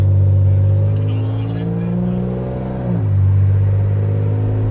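Six-cylinder car engine revs steadily from inside the car with a droning, humming tone that dips and swells again midway, under a lively mood though no words come through.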